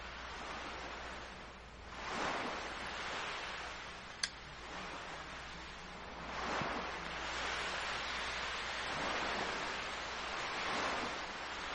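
Ocean surf from the video game Chrono Cross rolls in a steady, broad wash, swelling and easing every few seconds, with one faint tick partway through.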